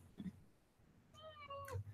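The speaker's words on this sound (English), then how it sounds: "And Tib has joined us as our cat" A house cat meows twice, a brief cry followed by a longer drawn-out meow, close and moderately loud in a quiet room with no talking.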